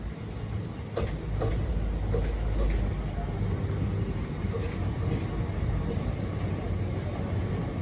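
Passenger train pausing at Krishna Canal Junction and pulling away, a steady low rumble of carriages with faint clunks and door noise, heard from on board.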